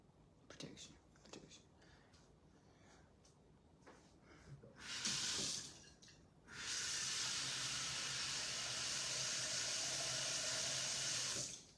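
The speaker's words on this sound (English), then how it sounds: "fill our pot with water" Tap water runs steadily into a cooking pot, a loud continuous rushing hiss after a few brief bursts and quieter kitchen noises, with no talking.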